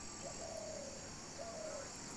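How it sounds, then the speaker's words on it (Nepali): Doves coo faintly in calm weather, two soft, drawn-out calls against a quiet background hum. "ढुकुरहरू कराइरहेको छ"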